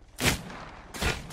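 Video game gunfire in two loud bursts of shots, the first near the start and the second about a second later, with a quieter stretch between them.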